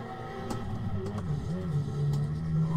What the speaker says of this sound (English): Hear that engine?